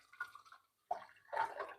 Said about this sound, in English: I'm using hot water to start the progress.